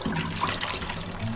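Running water from a kitchen tap splashing over raw beef being washed, a steady, close rush of flowing and spattering water with no talk.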